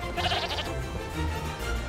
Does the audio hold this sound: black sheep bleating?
yes